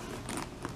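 A backpack-style diaper bag zipper is pulled briefly, giving a short, soft rasping run at close range in a quiet room.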